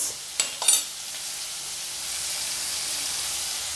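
Spices with turmeric and chili powder fry in a pan, with a couple of quick clinks at first, then a steady, close hissing sizzle that continues alone.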